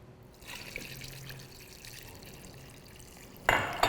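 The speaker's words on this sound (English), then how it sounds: "now we're gonna add our oxtail back to our pot," Oxtail and its juices are poured back into a cooking pot, giving a faint wet trickle and clink with a short louder splash near the end.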